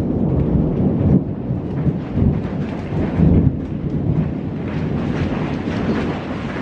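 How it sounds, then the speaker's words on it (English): A thunderstorm rolls on with deep, rumbling thunder swelling and fading over a constant wash of heavy rain, loud and enveloping throughout with no voices. "Like, it's just a thunderstorm."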